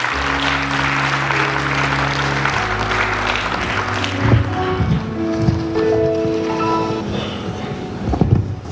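A church congregation applauds to welcome the preacher, sustained loud clapping from many hands in a large room, with some voices rising beneath it as the applause continues.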